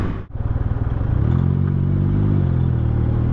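A 2023 Can-Am Ryker 900 three-wheeled motorcycle with CVT transmission runs nearby with a loud, steady engine drone. A brief dip near the start gives way to a rising, rhythmic throb that settles into an even hum.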